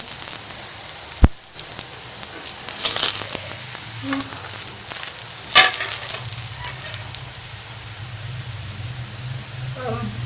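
Makki ki roti, a corn flour flatbread, cooking on a hot griddle with a soft, steady sizzle broken by a few sharp clicks, while a voice talks over it.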